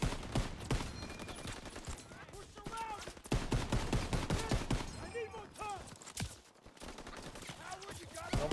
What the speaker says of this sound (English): This thing is not very accurate. I'm not happy with the M1 Garand.